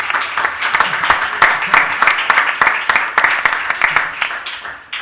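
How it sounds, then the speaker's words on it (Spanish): Warm applause from the audience at a public colloquium on child poverty, dense, sustained clapping of many hands holding steady for several seconds, close and fairly loud, with no voices over it. "os pido un caluroso aplauso para Javier"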